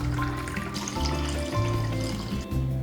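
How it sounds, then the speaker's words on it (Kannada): Water pours into a pot of washed rice, a continuous close splashing and trickling stream running for a few seconds without a break. "1 ಲೋಟ ರೈಸ್ಗೆ 2 ಲೋಟ ನೀರು ಹಾಕಬೇಕು."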